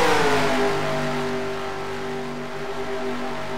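Race cars in the DASCAR racing game accelerate at a steady, loud roar, with harmonic engine tones rising and holding as they run on, and no talk over them.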